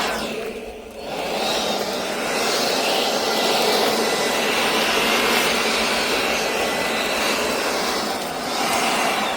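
Makita DUB186 cordless leaf blower running on its second speed setting, a steady loud rushing whoosh of air that holds nearly constant after a brief dip near the start, heard up close with no talking.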